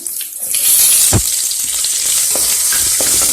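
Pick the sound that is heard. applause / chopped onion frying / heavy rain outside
chopped onion frying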